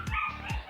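A pet dog barking indoors, two quick sharp barks close by, each ending in a slight whine.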